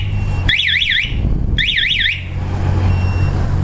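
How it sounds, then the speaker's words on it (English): A Spy 5000m alarm on a 2008 Honda Goldwing GL1800 motorcycle wails in two loud warbling siren bursts of about half a second each, over a low idling engine rumble. "the alarm is going to go all-out bore alarm mode"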